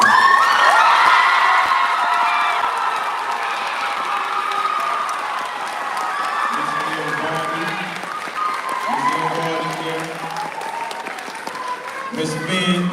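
A graduation audience bursts into loud applause and cheering, with clapping dense at first and then thinning out as scattered shouts and voices rise over the fading claps.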